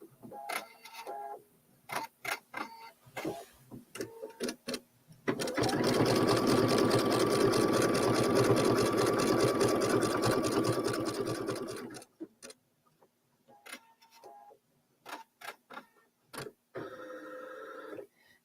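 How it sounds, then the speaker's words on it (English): A sewing machine runs a triple stitch on denim for an upcycled table topper, a steady mechanical whir for about seven seconds in the middle, framed by scattered clicks and handling noises before and after. "it's going to do the triple stitch to stitch that part down and add a little decorative element"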